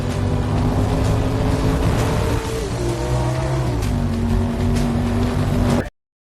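A BMW 8 Series 860i driving fast through the desert, a loud, steady engine drone with shifting pitch and rushing wind, up close and without talk, cutting off abruptly near the end.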